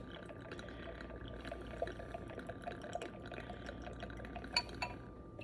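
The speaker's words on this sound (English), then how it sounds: "I'm actually gonna pour it in a cup so you can see the color of it." Sherry wine poured into a cup, a soft continuous trickle and splash of liquid with faint glassy clinks near the end, quiet and close.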